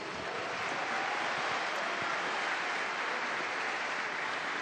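Broad, steady wash of applause from an audience at an official presidential address, even and continuous without breaks, somewhat distant and muted, no voices heard over it.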